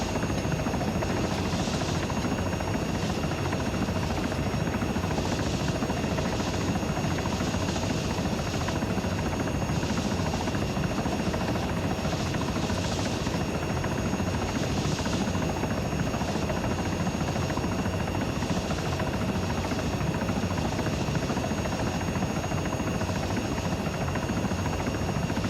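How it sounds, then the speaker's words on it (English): A helicopter in ArmA 3 flies steadily with its advanced flight model, the rotor throbbing in a regular chop over a constant engine whine, loud and continuous throughout with no pauses. "Bring the helicopter around."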